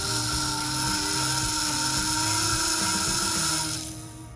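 A small electric slot car motor, powered by a transformer, whines at a steady high pitch, running continuously before winding down at the end.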